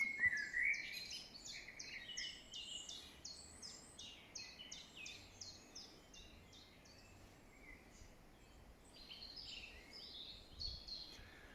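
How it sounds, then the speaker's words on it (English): Many birds sing at once in a dense, continuous chorus of bright chirps and warbled phrases, with calls overlapping steadily throughout against a faint outdoor background, and no voices. "So the birds have got lots to sing about"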